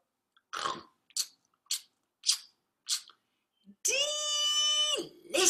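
Someone bites a crunchy apple with five short, crisp crunches spaced evenly apart, then a sustained vocal tone and a further sound follow; the bites are close and clear in a quiet space.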